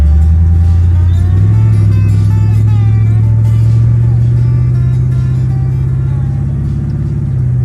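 Car engine running loud and close after a tightened TV cable on the transmission, a steady heavy drone whose pitch steps up once early on and then holds as the gears shift.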